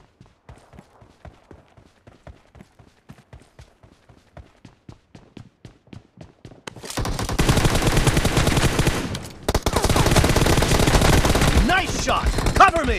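Gunfire in a PUBG Mobile room match: first a quiet, evenly spaced string of single shots, then a sudden loud, sustained barrage of rapid automatic fire that briefly stops and resumes, close and dominant.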